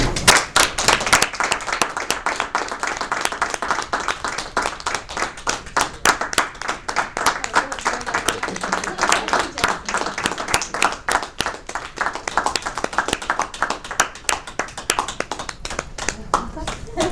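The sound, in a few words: audience applauding a speaker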